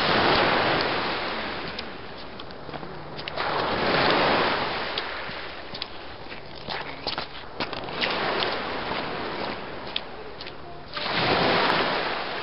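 Surf rolls onto the shore at Irving Nature Park in broad, rushing surges that swell and fade three times, loud and close, with wind buffeting the microphone.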